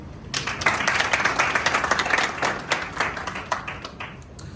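An audience at an Appiah Stadium event in Kumasi breaks into loud, dense applause and clapping that swells quickly and holds steadily before tapering slightly.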